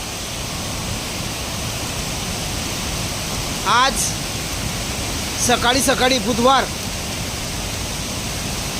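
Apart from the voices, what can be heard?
waterfall in full flood after heavy rain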